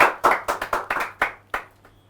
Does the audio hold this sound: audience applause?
yes